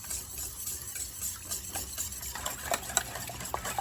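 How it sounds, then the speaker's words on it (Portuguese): Three eggs beaten by hand in a bowl in a home kitchen, a steady scraping, clicking whisk rhythm with sharp taps against the bowl, moderately close and quiet. "Eu vou quebrar 3 ovos e vou bater eles."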